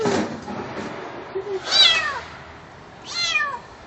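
A kitten trapped in a car's engine compartment gives two distinct meows, one near 1.8 seconds and another near 3.2 seconds, each a clear rising-falling cry over a faint background.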